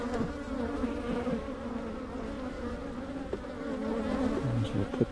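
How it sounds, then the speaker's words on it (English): Bees buzz densely around an opened hive box, a continuous close swarm hum with individual insects droning past the microphone. "Spicy bees."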